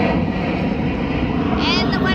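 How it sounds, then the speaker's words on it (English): Loud, steady roar of a fixed-wing airplane passing low overhead near an airport, heard from an outdoor artist booth at a festival at the Mall of America, with a rising whine near the end. "the wonderful planes, because we're by the airport, are going overhead. They're really loud."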